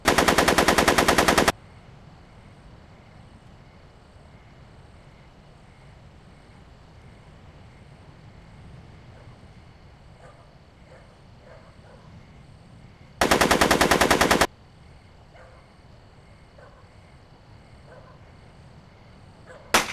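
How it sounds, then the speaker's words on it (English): Machine gun fire in a Back to the Future video game, heard as two loud, dense bursts of rapid shots, one at the start and one around two-thirds through, with quieter game ambience between. "Are you shooting at me?"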